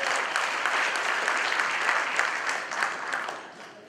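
A reunion audience claps together for the president of the Hyderabad Association, a steady, moderately loud round of applause that tapers off at the end.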